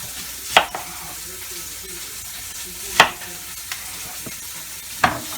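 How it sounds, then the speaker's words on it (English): Sliced onions sizzle in a pan for a pot roast, with a steady low frying hiss and three sharp utensil scrapes spaced a couple of seconds apart; no one speaks. "A couple of onions we're going to put on there."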